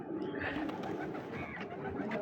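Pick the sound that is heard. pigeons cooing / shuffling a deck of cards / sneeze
pigeons cooing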